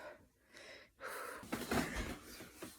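A deep, rushing gasp for breath, loud and close after a brief quiet moment, with breathy air trailing off.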